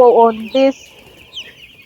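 Broiler chickens cluck loudly and close by, two short harmonic bursts in quick succession followed by fainter high chirping from other birds in the flock.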